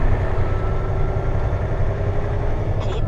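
Car engine idling on a Michigan highway near an accident scene, a low steady rumble close by with no talk.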